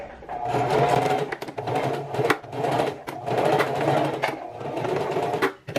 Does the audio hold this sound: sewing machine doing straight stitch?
yes